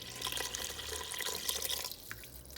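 Tap water runs steadily from a faucet to measure two cups for a baking batter, a close, even rush that eases slightly near the end, with no talking.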